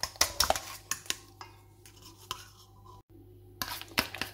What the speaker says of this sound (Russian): И размешиваем до полного растворения сахара. Взбиваем вместе с яйцами.